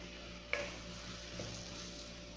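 Vegetables with spinach being sautéed in a pan, a soft low sizzle under a sharp scrape or clack of a stirring utensil near the start and a fainter knock later.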